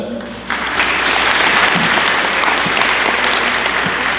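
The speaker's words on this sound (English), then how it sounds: "Give them a round of applause for that." Loud, sustained applause from a large crowd at a high school senior signing day breaks out after a short moment and continues steadily, with clapping filling the space.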